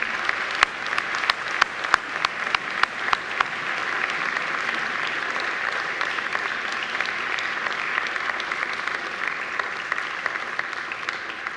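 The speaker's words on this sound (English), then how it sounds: "please give them a very big round of applause for all they've done for you" Sustained applause from a large crowd of university graduates at a Macquarie graduation ceremony, dense steady clapping that starts with sharp claps and settles into an even roar, with no talk over it.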